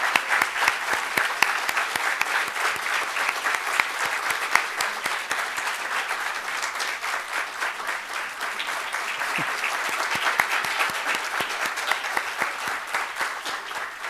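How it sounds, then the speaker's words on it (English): Sustained audience applause at a university student government awards and inauguration ceremony, dense and even clapping from a large crowd that continues for the full stretch without a break. "Can we give them a round of applause, please?"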